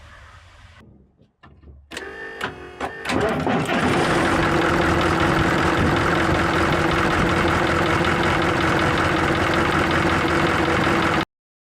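A Ford L8000 truck engine idles while its air compressor fills the air tank. A few clanks come first, then a loud, steady, rumbling idle continues for several seconds before stopping suddenly.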